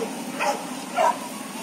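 A dog gives two short, yelping barks about half a second apart, fairly close, over a steady background hiss.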